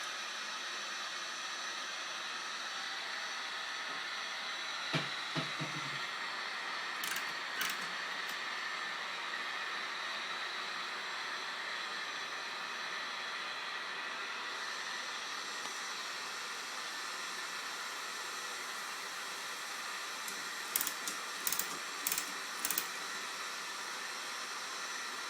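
A heat gun melts the glue on an arrow shaft ferrule, giving a faint, steady blowing hiss that runs throughout, with a few light clicks and taps.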